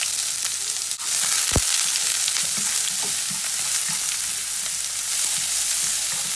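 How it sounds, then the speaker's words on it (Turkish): Chopped onions poured into hot vegetable oil burst into a loud, continuous sizzle after a short dip, and a sharp utensil knock is heard soon after, with no one talking. "Yağımız ısındı. Şöyle soğanımızı döküyoruz."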